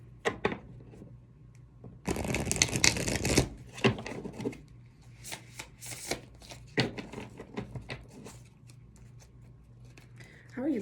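Tarot cards are shuffled in bursts, with a dense riffle followed by scattered clicks and snaps of cards, close and moderately loud. A voice talks over parts of it.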